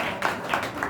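A church congregation claps to welcome a preacher, a short, dense patter of applause with a few louder clustered claps standing out in a reverberant hall.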